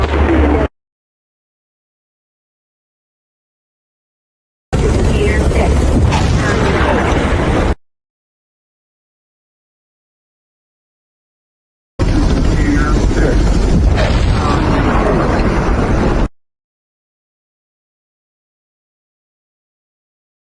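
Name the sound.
series of explosions in a movie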